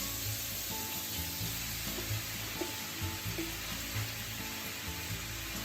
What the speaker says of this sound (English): Pork is almost cooked but still pink here and there. Let's add the cabbage.